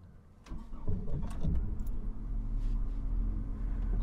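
A 2001 Holden VU Ute engine cranking and catching, a brief starter whirr followed by a low, steady idle rumble heard from inside the cab, fairly faint.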